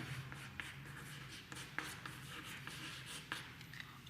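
Writing on a board during a chemistry lesson: quiet, scratchy strokes in short, irregular bursts with a few sharper taps, heard close with no voice.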